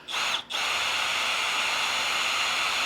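A power drill bores into a kayak seat, whining steadily and loudly up close, with one brief dip near the start before the motor runs on continuously.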